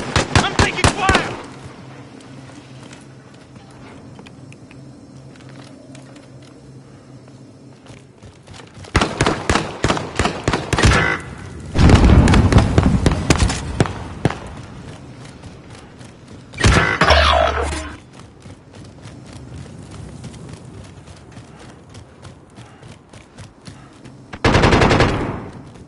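Video game gunfire comes in sharp bursts of rapid automatic shots, loud and close, separated by quieter gaps, with voices talking in between.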